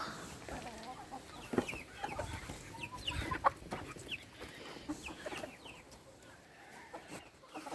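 Hens cluck in a busy scattered chorus, several laying hens close by with short irregular calls, plus occasional sharper squawks over a low farmyard background.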